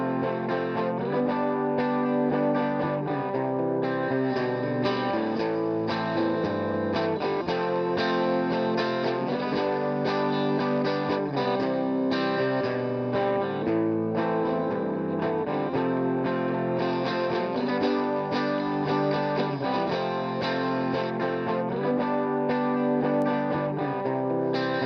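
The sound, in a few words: electric guitars in mix, without then with high boost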